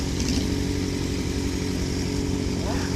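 A Yamaha XJ6 motorcycle with an open straight-pipe exhaust roars loud and close in a continuous, gritty engine drone that holds steady throughout.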